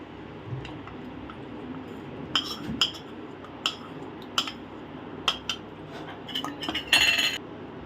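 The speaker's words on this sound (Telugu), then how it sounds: "కస్టర్డ్ పౌడర్ పాలల్లో వేసిన తర్వాత లో ఫ్లేమ్లో దగ్గర పడే వరకు కలుపుకోవాలి" Custard powder being stirred into milk with a spoon over low flame, with scattered spoon clinks and scrapes against the vessel, quicker and denser toward the end, close and without voices.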